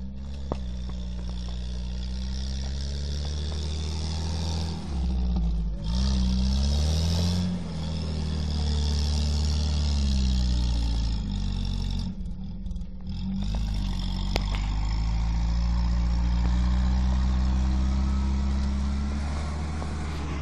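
A UAZ off-road vehicle in the Spin Tires driving game on a slippery tank road, its engine droning loudly and steadily with pitch swings as it revs up and eases off, no talk.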